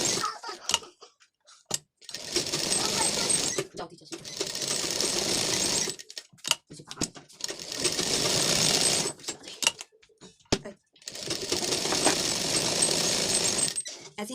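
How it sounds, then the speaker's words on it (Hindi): A sewing machine stitching a lined blouse runs in four bursts of rapid whirring several seconds each, separated by short pauses with small clicks and handling noises, close and clear with no speech. "अब हम आइट साइड की सिलाई कर लेंगे"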